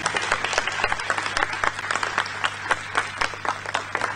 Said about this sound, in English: I think it deserves a big round of applause over again.